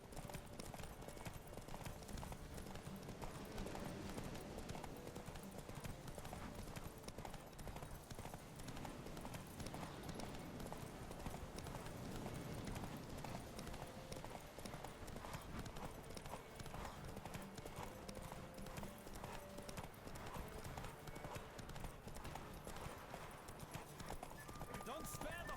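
In The Witcher 3, a horse gallops in rapid, steady hoofbeats under continuous game sound and voices, heard faintly throughout.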